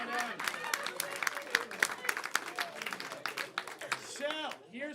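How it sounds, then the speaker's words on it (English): An audience at a live comedy game show applauds, with steady clapping and scattered cheers close by that fade out near the end. "All right, clap for yourselves,"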